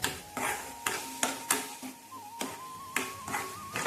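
Carrot halwa being stirred in a pan, with a regular series of soft scraping strokes about every half second over a faint steady hiss, close and fairly quiet.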